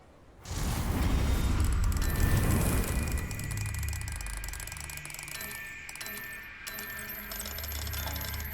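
A magical Alohomora unlocking spell opens a lock in the Hogwarts Legacy video game. A sudden whoosh gives way to a sustained run of ratcheting, gear-like mechanical clicks and whirring that fade slightly, then swell again.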